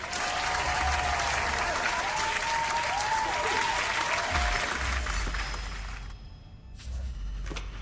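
Cheering and applause from an online crowd of players during a digital Dune Imperium board game session, a dense steady wash of clapping and cheers that stays loud and then fades slightly near the end.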